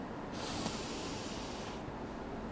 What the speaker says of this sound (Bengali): আমি একটু শ্বাস নেব এরকম